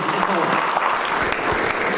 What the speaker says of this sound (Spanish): Así les aplaudieron a los estudiantes de la Universidad Modular Abierta